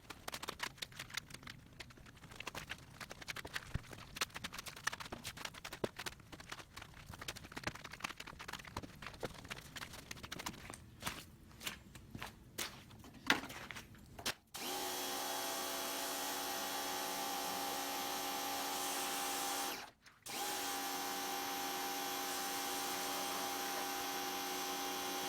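A quiet electric pressure washer sprays alone, first as an uneven, rattly hiss with ticking clatter, then as a steady loud spray with a humming motor tone that cuts out briefly once before resuming.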